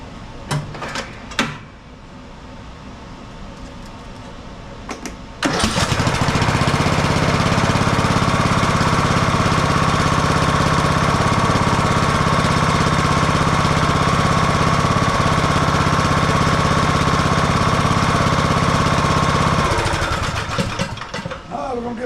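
A Husqvarna YTH18542 riding mower engine cranks over and catches, then runs loud and steady close by for about fifteen seconds before easing off near the end.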